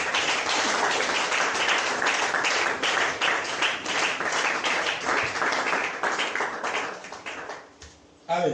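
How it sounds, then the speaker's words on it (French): A church congregation applauding and acclaiming during a sermon on the resurrection of the dead, dense sustained clapping mixed with shouting voices that thins out near the end before a last brief burst. "Est-ce qu'on peut acclamer très fort le Seigneur?"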